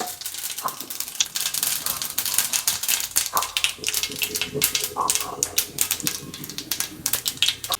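Mustard seeds popping in hot refined oil in a pan, a dense run of sharp crackles and pops with a continuous sizzle, close and fairly loud, no talking.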